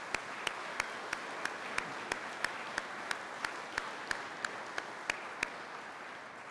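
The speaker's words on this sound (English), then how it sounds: "please offer them a round of applause for their dedication." Applause at a graduation ceremony for a basic detention officer class: a steady run of evenly spaced, crisp claps over a broad hiss of crowd clapping, lasting several seconds without voices.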